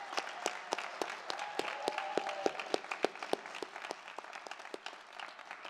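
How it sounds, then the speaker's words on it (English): Audience applause at a graduate commencement ceremony for a school of dramatic arts, a dense, sustained clapping from a large crowd with sharp individual claps standing out, steady for several seconds and easing slightly toward the end. "Let's give them a round of applause."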